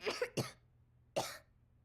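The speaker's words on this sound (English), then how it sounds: "Caillou felt hot and was coughing" A young child gives a quick pair of coughs, then one more after a brief pause, close and clear against near silence in an animated cartoon.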